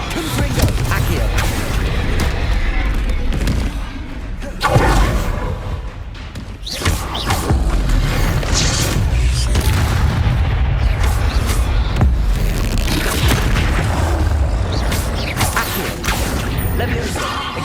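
Spell blasts from the Confringo fire spell in Hogwarts Legacy on PS5, dense booming impacts and rumbling bursts filling a continuous loud game battle mix, with shouted spell incantations over the action.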